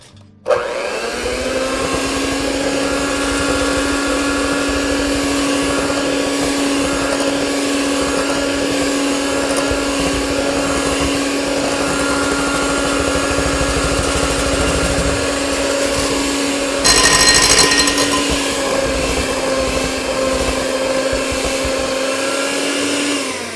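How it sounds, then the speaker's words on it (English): An electric hand mixer whirs steadily through thick banana bread batter with dry ingredients being added, a loud continuous motor whine with a brief rougher burst near the end before it cuts off. "I'm going to put some in, and I'm going to mix at the same time."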